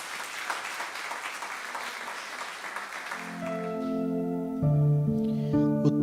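A church congregation applauds during a sermon, a few seconds of fairly faint, steady clapping that gives way to sustained keyboard or organ tones.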